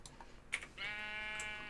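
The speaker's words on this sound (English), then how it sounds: "It is a sheep" A single Minecraft sheep bleat, a sustained wavering tone following a couple of soft clicks, faint and close.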